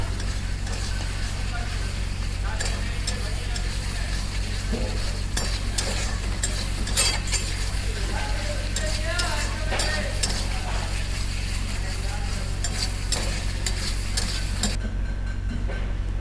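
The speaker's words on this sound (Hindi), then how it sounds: "अभी अच्छे तरीके से इसकी मिक्सिंग करेंगे, बुनाई करेंगे" Mutton karahi being stirred in a pan with oil and green chilli, a continuous sizzle broken by repeated spoon scrapes and clinks against the metal, no voices.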